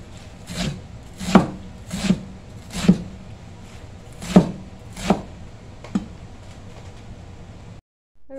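Steady knife chops through eru (okazi) leaves on a cutting board, about seven sharp strokes at an even pace, close and clear with no talking.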